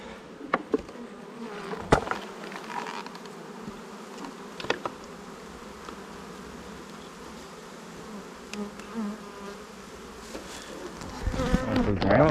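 Honeybees swarming around beehives fill the air with a steady, dense buzzing that stays close and continuous throughout, with occasional louder passes of individual bees near the listener and no talking.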